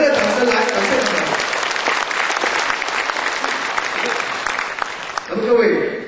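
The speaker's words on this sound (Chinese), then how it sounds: "在此我们一个热烈掌声来感谢你们" A hall full of delegates at a party convention breaks into warm applause, dense steady clapping that holds for several seconds and then thins out.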